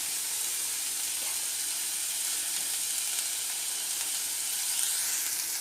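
Vegetables frying on a tawa for a veg burger, a loud, even hissing sizzle that holds steady throughout, close up with no voices.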